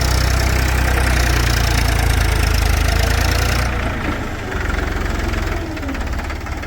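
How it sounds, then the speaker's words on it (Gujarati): A Farmtrac 42 HP Promaxx 4WD tractor's diesel engine idles with a steady low rumble and knocking, close by; the drone drops a little partway through, then continues. "અમાર પુષ્પારાજ ટ્રેક્ટર હાકેરા છે."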